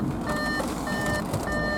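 An Audi A5 2.0L TDI S Line Special Edition sounds its door-open warning from inside the cabin: three evenly spaced electronic beeps, clear and steady, with no voices.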